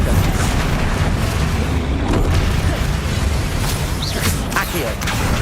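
A Flipendo spell goes off in the Hogwarts Legacy video game, a loud, dense burst of magical impact with a booming low rumble and swishing, sparkling high tones that hold steady for several seconds.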